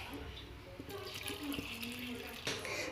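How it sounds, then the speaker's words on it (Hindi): Water is poured into a pressure cooker full of chopped vegetables for pav bhaji, a soft, uneven splashing and gurgling heard up close in a kitchen. "अब हम इसके अंदर वाटर डालेंगे।"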